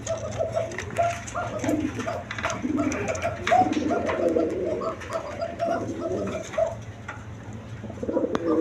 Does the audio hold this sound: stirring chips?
no